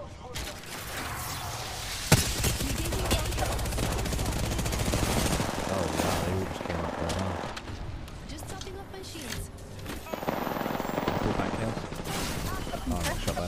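Continuous bursts of automatic gunfire from an opposing team in a shooter game, fairly loud rattling volleys with a sharp crack near the start, running under steady talk throughout.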